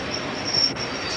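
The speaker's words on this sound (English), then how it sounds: "The train now approaching platform 1 is the 118 from Carlisle." A train pulling into platform 1 at Stafford station in 1978, a steady loud rolling rumble with a thin high wheel squeal running through it.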